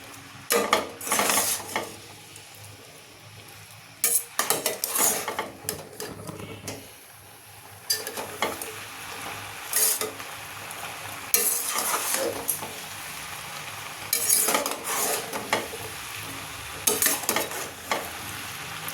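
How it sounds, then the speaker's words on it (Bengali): Sago (sabudana) being mixed in a pan, bursts of scraping and clattering from a spoon against the pan in irregular clusters over a faint sizzle, close and fairly loud. "এইভাবে সাবুটাকে ভালো করে মিক্সড করে নেব।"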